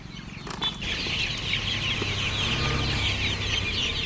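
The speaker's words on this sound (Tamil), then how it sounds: "இது கிண்ணி கோழிண்ணா கிண்ணி கோழி" A flock of guinea fowl chatters nonstop, a dense, scratchy chorus of calls at moderate distance, with faint rustling underneath.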